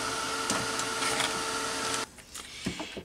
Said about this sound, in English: Let's just give this a dry to make sure that the pigments are dry.